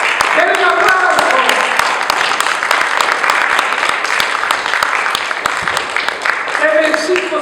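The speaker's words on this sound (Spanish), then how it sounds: "Denle un aplauso." A church congregation claps during a sermon, a loud steady round of applause with individual sharp claps standing out and voices over it.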